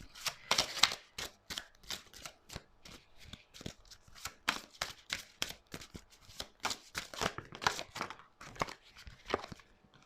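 Oracle cards riffle and flick in a rapid run of crisp, papery slaps and snaps, some clustered and some spaced, close and fairly quiet with no voice.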